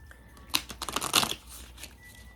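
Quick papery riffling and soft flicks of oracle cards being shuffled by hand, close up, in a few short bursts.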